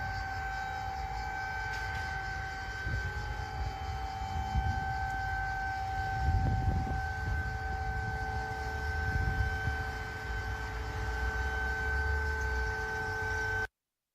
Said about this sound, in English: letting us hear a little bit of the air raid sirens that are sounding